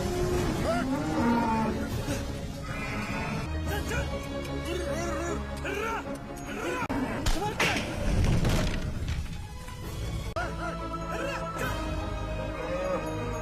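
Cattle moo repeatedly as they are led out of a burning barn, several drawn-out lowing calls overlapping with thuds and crashing noises and excited voices in a dramatic scene.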